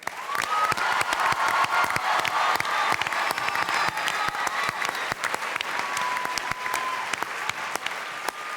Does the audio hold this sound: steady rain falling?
no